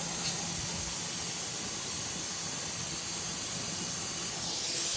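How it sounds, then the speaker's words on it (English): Tire deflators screwed onto a vehicle's tires let air out in a steady, loud, continuous hiss that holds unbroken throughout. "Supposedly, you just screw them on, and they'll air the tires down for you."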